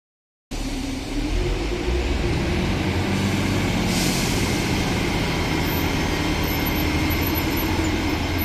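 A Sprinter diesel multiple unit train runs in Birmingham, a loud, steady low diesel rumble and rolling drone that starts abruptly and holds close by, with faint high squeals toward the end.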